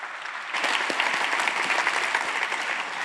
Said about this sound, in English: Please give them a huge applause for them.